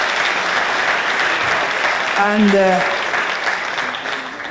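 An audience applauding at an architecture talk, dense sustained clapping filling the hall and slowly fading, with a voice speaking briefly over it.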